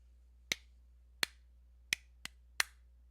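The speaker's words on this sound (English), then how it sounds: "If I were to clap this" Hands clap a practice rhythm for a music lesson: five sharp, close claps spaced ta, ta, ti, ti, ta, the middle two quicker and lighter, each standing alone against a quiet room hum.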